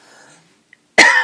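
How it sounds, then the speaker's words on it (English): After a quiet moment, a single harsh cough bursts out loud and close. "Pardon my cough."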